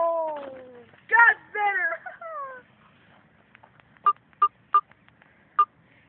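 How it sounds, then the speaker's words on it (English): A person speaks briefly, then four short electronic phone beeps sound in an uneven sequence, clear and close in a quiet room. "the phone beeped"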